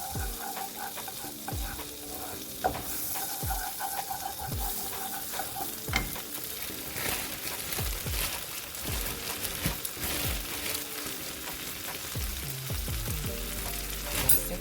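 Flour is stirred into a roux for mac and cheese sauce, a continuous low sizzle in the pan with repeated scraping strokes of the utensil at an even pace and no talking.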